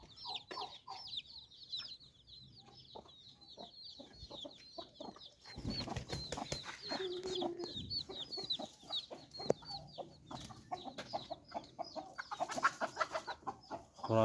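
Chickens and a rooster cluck steadily on a farm, a chatter of soft, high calls that grows busier and louder halfway through, with scattered squawks.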